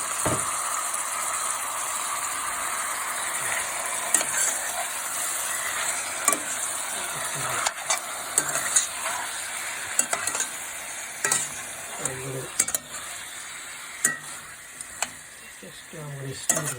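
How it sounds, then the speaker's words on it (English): Chicken sizzles and fries steadily in a pan for biryani, a continuous hiss broken by occasional stirring scrapes and clinks of a utensil against the pan. "So I'm going to fry chicken a little bit."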